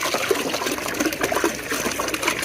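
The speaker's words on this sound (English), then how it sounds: "This is how we put the water in." Water splashes and gurgles as it is poured into an animal's water container at an off-grid homestead, an uneven close-up trickle and gush lasting a couple of seconds with no voices.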